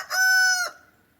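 A single rooster crows once on a homestead, a loud, clear, close cock-a-doodle-doo lasting about half a second that cuts off abruptly, with quiet surroundings before and after.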